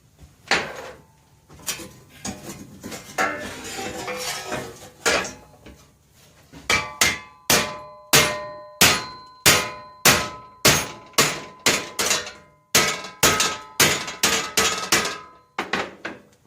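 Metal clanging from a hammer beating a bent John Deere L100 mower hood back straight, first a looser stretch of scraping knocks and then a long run of loud, evenly spaced ringing blows close by.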